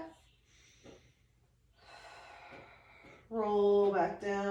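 Slow, deep breaths are drawn in and out through the nose during a core exercise, soft and close, before a voice begins speaking near the end.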